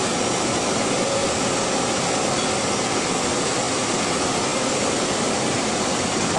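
A candy mixer machine driven by a gear motor runs steadily, giving a loud, continuous broadband whirring drone with no pauses and no talking.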